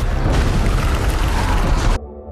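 Mines detonating in a film as creatures blow them up: a loud, dense rumbling roar that holds steady for about two seconds, then cuts off abruptly into a low lingering hum.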